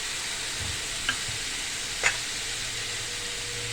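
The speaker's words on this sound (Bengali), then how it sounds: "এবার আমি সামান্য জল দিয়ে দিচ্ছি মশলাগুলোর জন্য ভালো করে কষিয়ে নেব" Spices for a potato curry cooked without onion or garlic sizzle gently in a pan after a little water is added, a steady soft frying hiss with a couple of faint clinks of a spoon.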